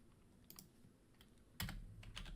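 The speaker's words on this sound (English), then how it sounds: "Type in your favorite food." Computer keyboard typing during a JavaScript coding session: a few faint scattered keystrokes, then a louder burst of clicks near the end, heard close with no talking.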